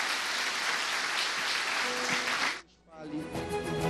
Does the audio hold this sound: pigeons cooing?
no